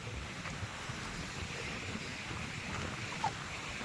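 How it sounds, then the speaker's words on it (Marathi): A rough, churning sea breaks against a rocky shore where fishing nets are set, giving a steady, close roar of surf mixed with gusty wind noise and no voices. "तर पाठीमागे बघा बराच पाणी आहे आणि खवळलाय समुद्र"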